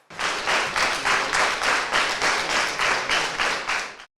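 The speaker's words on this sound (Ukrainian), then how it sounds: "у залі театру підтримують оваціями" A Ukrainian theatre audience at an awards ceremony gives an ovation, a full hall clapping in rhythmic unison with steady pulsing beats, loud and sustained until it stops sharply.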